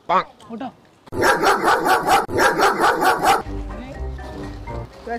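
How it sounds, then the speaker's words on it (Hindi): A dog barks in a fast, loud, repeated series over about two and a half seconds, with excited voices before and after and ongoing talk in the background. "कुत्ता है कुत्ता है"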